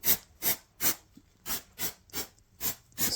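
Rhythmic back-and-forth scraping or sanding of dried glue on a rustic wooden tree-trunk table, nine even strokes close up with brief gaps between them and no talk.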